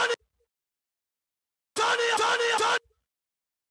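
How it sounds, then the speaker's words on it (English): Short burst of shouted vocal chants from a beat drop, loud and punchy with rhythmic hits, following a brief blip and a stretch of near silence, then cutting off abruptly. "In this beat, I have vocal chants going throughout the first part of the drop here."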